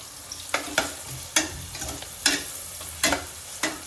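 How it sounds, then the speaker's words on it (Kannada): Onions fry in hot oil for chicken biryani, a steady crackling sizzle broken by sharp periodic bursts as the pan is stirred, close and fairly loud with no talking. "ಪಟ ಪಟ ಅಲ್ಲ, ಚಟಪಟ ಚಟಪಟ. ಚೆನ್ನಾಗಿ ಹುರ್ಕೋಬೇಕು."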